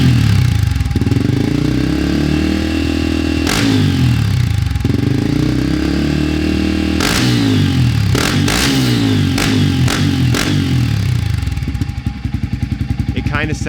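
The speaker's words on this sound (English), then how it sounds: "just as it's sitting here idling, it is way louder than it was before" A Honda CRF250F dirt bike fitted with a new Tuscany Racing exhaust idles loudly and close with a lumpy, barking rhythm, breaking into several sharp throttle blips, while a person talks over it.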